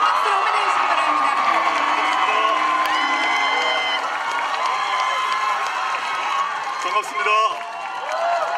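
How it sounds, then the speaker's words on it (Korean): A large outdoor crowd at a street campaign event in front of Hongdae claps and cheers for a newly introduced guest, with sustained applause, whoops and shouts filling the whole stretch, loud and dense. "여러분 큰 박수로 환영해 주시기 바랍니다."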